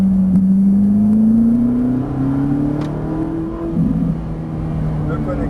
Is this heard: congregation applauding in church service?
no